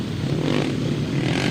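Motorcycles at a grasstrack race meeting hold a loud, steady, droning rev for the 350 class, one continuous engine roar with no pauses.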